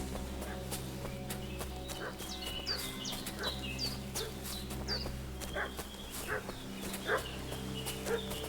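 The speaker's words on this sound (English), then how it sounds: "What's that dog making such a fuss about?" A dog barks over and over in the medieval game Kingdom Come: Deliverance II, short yaps repeating over a steady humming background of ambient game sound, with no one speaking.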